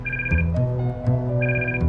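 A telephone rings in two bursts of electronic trilling tones separated by a short pause, clear and close, over a low steady background.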